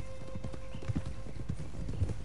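Horse hooves clip-clopping in the video game Red Dead Redemption 2, a steady close rhythm of hoofbeats under faint background sound.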